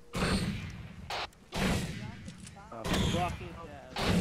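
Rocket launches in the Star Wars-themed Arma 3 military game: several loud, booming blasts at irregular intervals, heard close alongside people talking over each other throughout.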